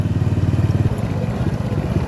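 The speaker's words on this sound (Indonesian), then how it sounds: "Sekarang kita gas pakai motor." A motorcycle on a trail to the Lubuk Nginio waterfall in Kampar chugs loudly at close range as the rider sets off, with a rough, steady, pulsing engine note.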